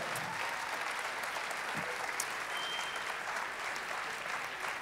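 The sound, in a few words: audience applause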